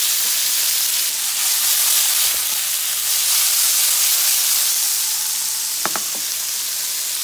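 Chicken sausage seasoned with cumin fries in a pan, giving a steady close sizzle and hiss throughout, with a few faint clicks near the end.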